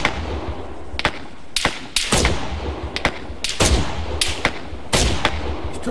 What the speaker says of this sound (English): Oh, more mortars, mate. I heard that pop, mate.